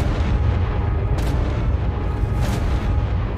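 A big explosion in Ark: Survival with the Ark Eternal mod rumbles as a dense, sustained low roar, with a couple of sharper bursts breaking through over the continuous blast.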